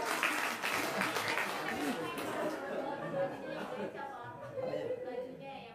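Audience applause breaks out at an Indonesian gathering, a scattered crowd clapping with chatter and laughter mixed in, loud at first and thinning out toward the end.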